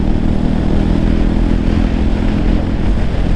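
A KTM Duke 390 motorcycle engine pulls hard under acceleration, a loud, steady, close-up roar that holds level for the whole stretch with no talk.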